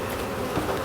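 Honeybees from a swarm in a small hive buzz as a steady, dense hum, close and continuous with no voices over the sound.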